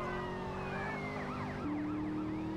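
A police siren from the video game GTA San Andreas wails in repeated rising and falling sweeps, loud and close, over a steady engine-like drone, with no voices.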